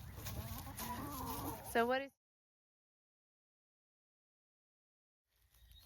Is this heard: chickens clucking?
yes